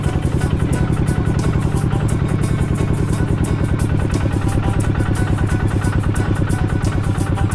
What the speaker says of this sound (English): Going in a tractor.